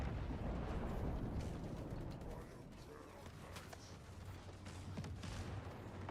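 Explosions and dense battle noise from the Warhammer 40k Total War video game: a continuous rumbling barrage with scattered sharp blasts, fairly loud throughout, with no talk.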